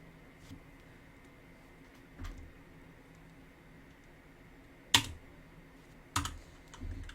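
Keys tapped on a computer keyboard while copying with Ctrl+C, heard as a few sparse, close, crisp clicks separated by quiet pauses.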